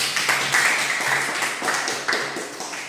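Students in a classroom clap their hands together in a fairly loud, steady patter of many hands, with a few sharper individual claps standing out.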